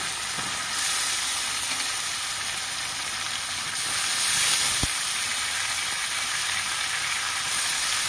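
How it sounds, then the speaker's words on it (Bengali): Washed rice frying with egg and potato for an egg pulao, a steady broad sizzle that holds close and even throughout, with one brief knock of a utensil partway through and no talking. "ভালো করে কষিয়ে নেবো"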